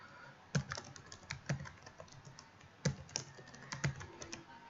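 Password being typed on a computer keyboard: a short run of quiet, close key clicks in an uneven rhythm, with a few louder presses, no speech.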